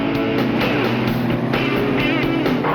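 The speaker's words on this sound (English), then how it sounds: "You got 3 cars coming at you guys." Off-road race cars roar past close by in Baja, their engines revving and snarling loudly in quick surges.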